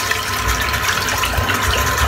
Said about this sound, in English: Then I'll fill it up with some beautiful cold water and rinse off.